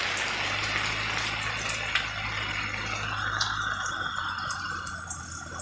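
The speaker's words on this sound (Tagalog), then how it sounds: "Nanggaling po sa taas yung tubig." Irrigation water pours from above onto areca palms, a steady rushing flow with scattered drips and splashes, fairly close and continuous, with no talk.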